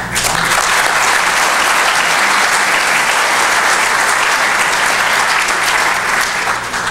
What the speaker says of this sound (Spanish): despedimos a nuestros conferencistas con fuertes aplausos